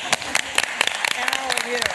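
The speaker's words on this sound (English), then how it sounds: "Can we take a moment to just clap our hands?" A small group claps at a Ramsey County meeting, sharp individual hand claps in an irregular, sparse pattern with voices talking over them.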